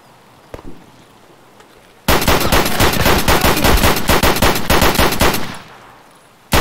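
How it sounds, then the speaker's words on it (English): A loud, sustained burst of rapid automatic gunfire lasts about three and a half seconds, preceded by a couple of faint isolated pops, with another sharp shot starting right at the end. "that gun scared the shit out of me. I always think I'm getting shot when I hear it"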